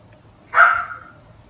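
A female dog gives a single sharp bark, close and loud, standing out against faint background noise.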